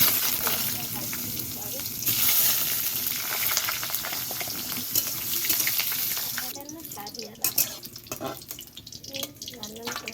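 Eggplant pieces fry in oil with a broad, steady sizzle for most of the stretch, then the hiss thins and gives way to clinks, stirring and a voice close by.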